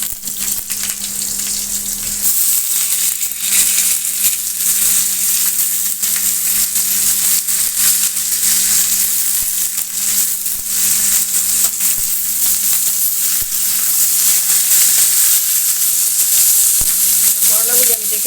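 Bitter gourd fries in an uncovered pan with crisp, chip-like fried potatoes, giving a loud, continuous sizzle with faint crackles and a short stir near the end. No one talks.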